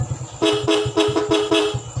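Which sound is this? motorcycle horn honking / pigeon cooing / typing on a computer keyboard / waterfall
motorcycle horn honking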